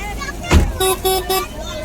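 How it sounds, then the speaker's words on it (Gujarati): A vehicle horn toots three short times amid a loud thump and busy street noise, with voices chattering in the background. "આગળ બહુ ભીડ થઈ ગઈ, જામ લાગી ગયો છે."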